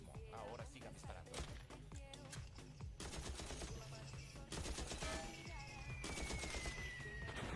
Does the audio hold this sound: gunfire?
yes